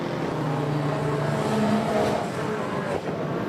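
Stock cars roar around a circuit in a dense, continuous engine drone, several cars racing close together at a steady high pitch with faint tire noise, and no voices over it.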